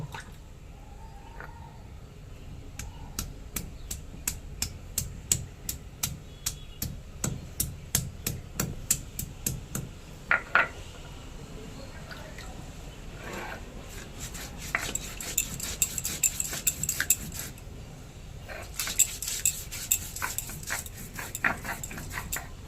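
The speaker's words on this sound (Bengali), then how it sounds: "রাঁধুনি আদা বাটা হয়ে গেছে, তুলে নেব।" Ginger and radhuni seeds ground into a paste on a stone in a Bengali home kitchen, with a steady run of sharp rhythmic knocks and scraping strokes close by and a wet, squishy texture throughout.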